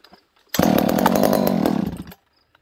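A chainsaw used for cutting firewood fires up and runs loud and steady at full throttle for about a second and a half, then cuts off abruptly, with near silence on either side.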